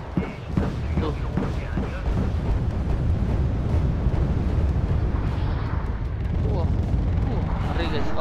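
Sustained automatic cannon fire from an AH-1J Cobra attack helicopter in the strategy game Wargame: Red Dragon, a dense continuous roar of rapid shots and booms with a voice speaking over it.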